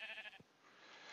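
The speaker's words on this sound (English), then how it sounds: "Stop trying to escape, sheep." Sheep bleats from the Minecraft modpack Agrarian Skies, a short burst of two or three quick, nasal bleats at the start, then a low steady background.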